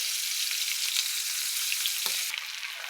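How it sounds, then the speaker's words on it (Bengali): Fish fries in a pan with a continuous close, hissing sizzle and crackle, a brief clunk near the end as something is moved, and no voices. "দেখেন আমি বিগ্রেট মাছটা ভাজি করে নিতেছি"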